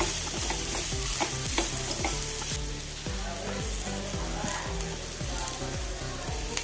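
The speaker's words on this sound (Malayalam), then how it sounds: "ബീട്രൂട്ട് ഇട്ട് കൊടുത്ത് ഇനി ഒന്ന് അളക്കി കൊടുക്കാം" Beetroot thoran cooks Kerala style in a pan under loud, steady sizzling, with a regular run of scraping and knocking stirs from a spoon against the pan.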